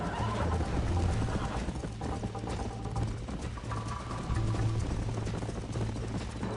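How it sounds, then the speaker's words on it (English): Continuous drumming hoofbeats of galloping horses in Red Dead Redemption, dense and steady, with a brief whinny mixed into a busy game soundscape. "I think you chose the wrong horse, Miss McFarland."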